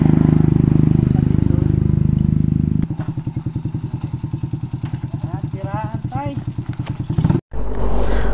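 A motorcycle ridden along the Marilaque Highway toward Infanta, Quezon, its engine first a steady low drone, then a close, loud, rapid pulsing throb that holds for several seconds with a voice talking over it, cut briefly near the end before resuming.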